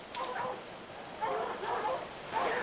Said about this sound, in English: The hounds surround the deer and simply bark or bay at it.